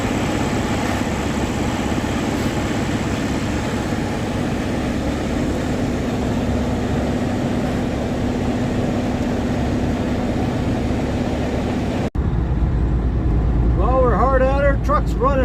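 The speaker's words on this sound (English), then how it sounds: "Truck's running really good" A truck's diesel engine, a Detroit Diesel DD16, runs with a steady low rumble for about twelve seconds before the sound cuts to a different scene with faint voices.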